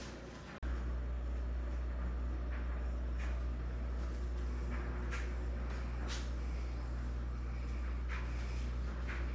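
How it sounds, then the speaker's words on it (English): A vacuum cleaner runs on household stairs, a steady low motor drone with a constant hum that switches on abruptly and continues evenly, with faint intermittent clicks and scrapes over it. "David is currently vacuuming all the stairs"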